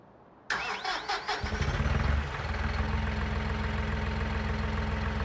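A Massey Ferguson 290 tractor engine in a video game cranks several times in quick rhythmic bursts, catches, and settles into a steady, loud diesel idle.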